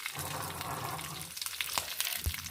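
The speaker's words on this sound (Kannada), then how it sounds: "ಒಗ್ಗರಣೆ ಹಾಕಿದ ಕೂಡಲೇ ಪಟ್ಟ ಮುಚ್ಚಿ ಬಿಡುವ" Tempering crackling in a pan for a sweet Udupi-style snake gourd dish, a faint close sizzle with a few soft pops and knocks, no talking.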